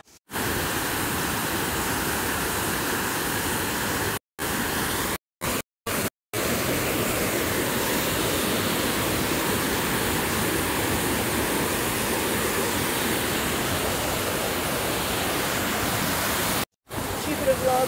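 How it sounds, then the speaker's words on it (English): A steady, powerful roar of rushing water from a waterfall fills the whole stretch, broken by a few brief dropouts. "we are now walking to the waterfall and you can hear it"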